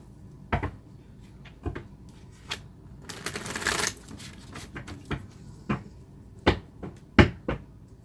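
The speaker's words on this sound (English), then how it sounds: "I'm going to have to shuffle these again" Tarot cards being shuffled by hand, with a burst of rapid riffling near the middle among scattered soft taps and knocks, close and fairly quiet.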